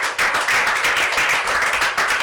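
A crowd claps steadily at a political address in Sierra Leone, loud, dense and close, with a few stronger bursts and no talking over it.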